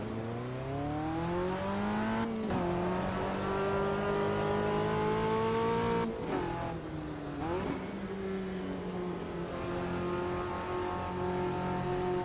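Race car engine in the sim racing game Automobilista 2, revving continuously with rising and falling pitch through gear changes, loud and steady, with brief dips as it shifts, no talk over it.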